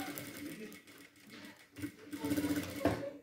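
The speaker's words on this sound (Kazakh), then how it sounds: "Енді соңына дейін әрі қарай сол ұшымен тігіп шығамын." Sewing machine running close by as it stitches a zipper onto a pillowcase, with a continuous whirring drone that starts softly, then speeds up and grows louder toward the end.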